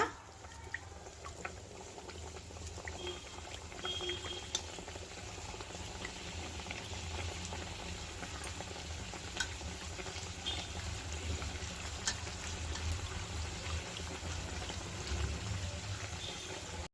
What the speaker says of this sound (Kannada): ಎಣ್ಣೆ ಈಗ ಬಿಸಿಯಾಗಿದೆ ಈಗ ರೆಡಿ ಮಾಡಿ ಇಟ್ಕೊಂಡಿರೋ ಬಟ್ಲನ್ನ ಎಣ್ಣೆ ಒಳಗಡೆ ಹಾಕ್ತಾ ಇದ್ದೀನಿ